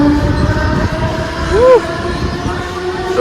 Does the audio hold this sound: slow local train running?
yes